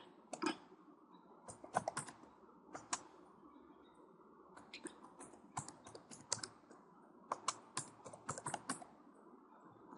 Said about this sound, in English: we're just going to type this one